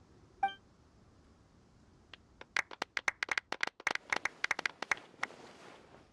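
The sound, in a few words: crowd applause at award ceremony, Genshin Impact video game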